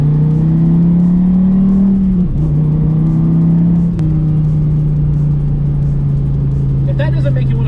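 A Gen V Dodge Viper engine drones loudly and steadily, its low pitch easing down slightly with a brief dip midway, while voices talk over it throughout.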